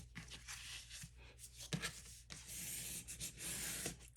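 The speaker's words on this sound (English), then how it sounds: "So I'm just gonna fold in. And then I'll fold in these little tabs." Paper being folded and creased by hand while a craft card envelope is assembled, tabs tucked in, with soft rustles and scraping rubs in several close bursts and a sharper crinkle partway through, with no voice.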